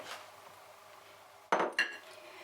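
Cottage cheese being moved into a large bowl for a baked casserole, with quiet kitchen handling followed by two sharp clinks of a utensil against the bowl, close and alone.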